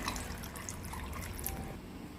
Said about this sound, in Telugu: బొండం వాటర్ని కూడా యాడ్ చేసుకోవాలి